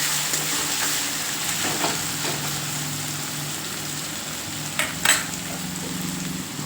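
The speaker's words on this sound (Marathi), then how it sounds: "आता हा पण थोडा नरम होईपर्यंत शिजेपर्यंत परतून घ्यायचा आहे" Finely chopped tomato is stir-fried in a pan for dhaba-style lasuni methi, producing a continuous moderate sizzle with occasional soft stirring knocks and one sharper clatter near the end, no talking.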